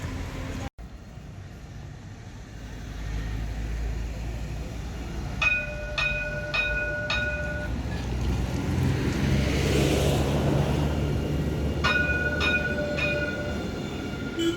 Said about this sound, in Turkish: Tramvay geldi.